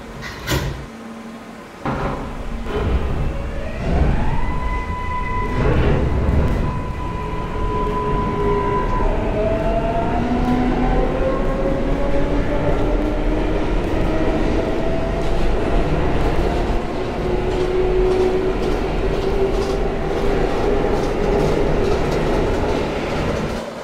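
A Brooklyn-bound L subway train in a video game simulator pulls out of the station, with door thumps and clatter giving way to rising, gliding electric motor whines over a steady rumble of wheels on track.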